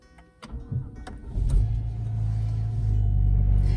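A Renault Talisman car engine starts by push-button: a couple of soft clicks, a brief cranking whirr, then the engine catches and settles into a steady low idle rumble heard from inside the car.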